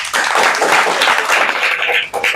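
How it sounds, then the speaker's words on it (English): Students at an English debate competition clap for a speaker, a brief, loud burst of dense applause close by, fading slightly near the end before rising again. "Once more clapping, guys."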